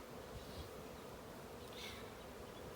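Honey bees at an opened hive during an inspection give a steady, faint, close buzzing hum that holds without pause, with no voices.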